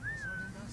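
A short rising-then-level whistled tune from a character in Assassin's Creed Valhalla, a single clear note held for about half a second over low game ambience and background murmur.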